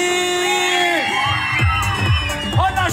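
Children at a clown show scream and cheer loudly together, rising whoops and shrieks in bursts over a steady crowd din, with music and voices mixed in.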